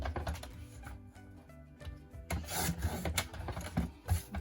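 White cardstock is trimmed for a scrapbook page, giving close, dry scraping and rasping strokes in quick irregular bursts, louder toward the end, with no talk.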